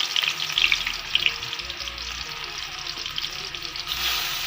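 Pieces of chicken fry in hot oil in a wok, giving a steady close sizzle with brief scraping stir sounds now and then and no talk.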